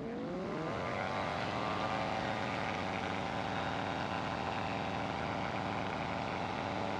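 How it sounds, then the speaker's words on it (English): A small training airplane's propeller engine runs at wide open throttle, giving a loud, steady, continuous drone close to the cabin that holds level throughout, with a slight rise in pitch at the start. "let's go to wide open throttle"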